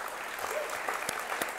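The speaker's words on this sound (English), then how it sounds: "A round of applause for Julia." A faint, steady patter of applause from a crowd welcoming a woman named Julia at a live event, distant and even, with a few sharper claps standing out.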